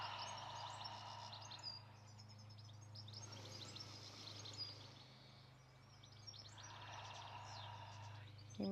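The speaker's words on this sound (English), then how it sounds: "You might be able to hear the bird song" Birds chirping and singing outdoors near a garden, faint and distant, a few scattered tweets over a steady low hum from lawnmowers.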